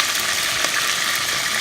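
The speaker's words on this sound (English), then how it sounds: "Keep it frying for about 5 minutes." Curry chicken pieces fry in hot oil with a steady, close, continuous sizzle and crackle that holds at an even level throughout, with no one talking.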